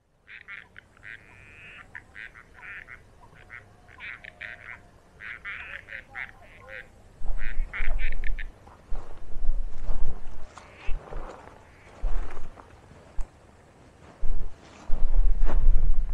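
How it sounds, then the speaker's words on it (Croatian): Frogs croak at a high mountain lake above 3000 m, a rapid run of repeated chirping calls in the first half. Louder rumbling noise and some faint talk follow and partly cover the chorus. "Jeste čuli žabe? Počeo koncert."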